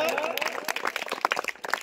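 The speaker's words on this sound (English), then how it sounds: "Clap for her." A classroom of children clapping for a student during a storytelling activity, brisk and uneven claps close by, with voices mixed in.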